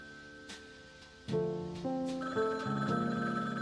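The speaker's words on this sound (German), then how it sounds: "Klingeling macht das Telefon." A telephone rings in the video game Frog Detective 3, a bright, tonal ringtone whose rising bursts of tones grow louder and layer over a few seconds.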